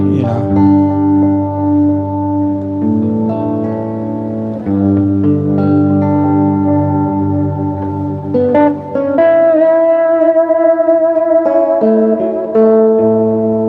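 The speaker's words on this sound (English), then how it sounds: "See, then you can hear that echo come in." Guitar played through an effects pedal pressed fully down, bringing in an echo effect: sustained harmonic notes ring and repeat, with denser layered tones swelling in the second half, steady and fairly loud with no talking.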